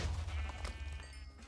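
Minecraft sheep bleat in a video game, short nasal bleats layered over a low thumping impact from a hammer shockwave, fairly quiet and with no talk.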